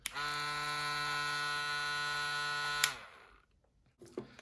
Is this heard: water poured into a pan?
no